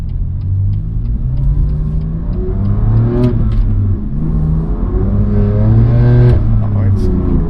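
BMW M2 Competition engine heard from inside the cabin, revving up through gears with rising, loud mechanical pitch, a shift or two breaking the climb, close and dominant throughout.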